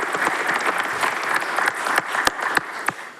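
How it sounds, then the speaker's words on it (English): Steady applause fills a town council meeting room as the audience claps for high school students, many hands clapping densely with a few sharper, louder claps standing out near the end. "So let's give them a round of applause"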